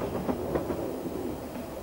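The Transalpine train rolls across New Zealand's South Island with a low, steady rumble and soft rhythmic wheel clicks, moderately distant and fairly quiet.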